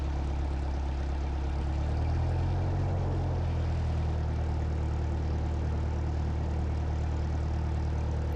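An experimental light propeller aircraft runs steadily at the end of a test flight, its engine drone loud and close throughout with a deep, constant hum and no talking.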